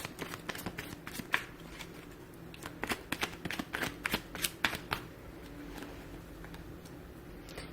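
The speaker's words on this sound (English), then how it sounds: "I'll shuffle my cards over here and see what we get for you here" Tarot cards being shuffled by hand, a close run of crisp riffling flutters and soft slaps in uneven bursts, busiest in the middle, then trailing off into quieter handling.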